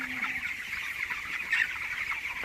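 Young meat chickens, about twenty days old, cluck and chatter steadily as a flock while pecking at feed in a shed. The sound is a continuous close-up murmur with no talking.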